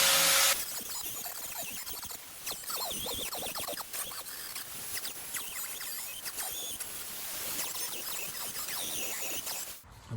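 Angle grinder smoothing a metal panel in a Toyota Celica engine bay during a 3SGE Beams engine swap clean-up, a steady abrasive whine with shifting pitch that runs almost unbroken for about ten seconds and stops abruptly near the end.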